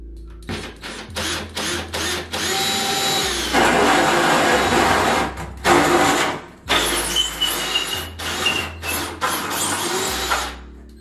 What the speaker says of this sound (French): Donc c'est du 63, je crois, à peu près. C'est parti, on va percer là.